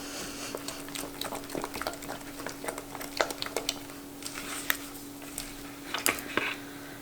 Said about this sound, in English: So we just really want to stir this up well.